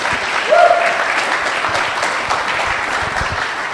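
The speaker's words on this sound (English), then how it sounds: "let's give them a round of applause, please." Audience applause after a talk on the existence of God, a steady wash of many hands clapping close and loud for several seconds, with a brief voice rising over it near the start.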